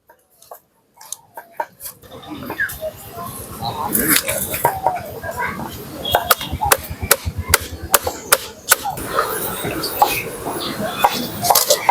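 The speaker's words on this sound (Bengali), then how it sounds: "তো মাছের মাথাটা আমি কেটে দিই" A knife chops through the head of a katla fish at a village cooking spot: a run of sharp, irregular whacks that grow denser and louder after a quiet start, close by over a busy outdoor background.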